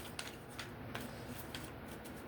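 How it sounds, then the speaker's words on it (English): Tarot cards shuffled by hand during a general reading, giving soft repeated riffling bursts at a steady rhythm over a faint room background, with no talk. "Shuffle."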